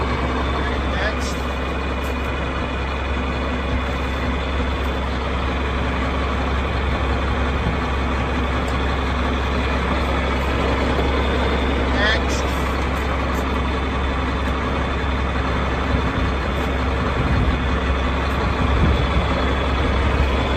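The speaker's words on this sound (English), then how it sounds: "that's at a tractor and an idle" A 1989 John Deere 4055 tractor engine idling with a steady low rumble and hum, heard close and constant, with people talking over it.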